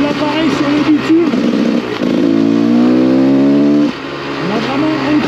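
A motorcycle rides on asphalt on a tyre fitted using a TikTok hack, its engine close and loud with a steady droning hum that rises in pitch for a couple of seconds as it accelerates, while a voice talks over it.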